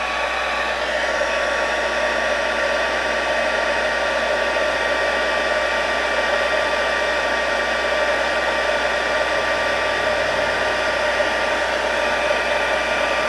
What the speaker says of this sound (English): take our heat tool and heat this up just until it starts to shine